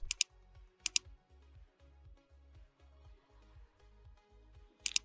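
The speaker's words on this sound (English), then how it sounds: "I want to select graphical install by hitting enter on the keyboard" Keys on a computer keyboard are struck during a Kali Linux install in VirtualBox, a few sharp clicks, a quick double tap at the start, another near one second, and a pair at the end, over a low rhythmic hum.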